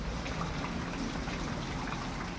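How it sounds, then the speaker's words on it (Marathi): Morning rain pours in a dense, unbroken hiss of falling water, steady and close. "आज पाऊस सकाळ सकाळी सुरुवात झाली पावसाची"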